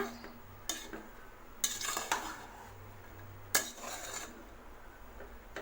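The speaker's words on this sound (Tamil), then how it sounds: "ஆட் பண்ணி லேசாக கலந்து விட்டுக்கோங்க" A spoon scrapes and clinks against a pan of green peas rice several times at an irregular pace, with soft stirring noises and a faint hum behind.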